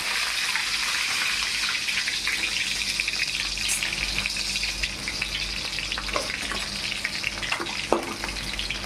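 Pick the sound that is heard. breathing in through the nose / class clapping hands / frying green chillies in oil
frying green chillies in oil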